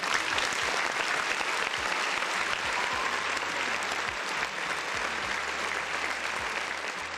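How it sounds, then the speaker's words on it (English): Steady, dense applause from a crowd, sustained and even throughout with no pauses. "another round of applause for the folks in the chat"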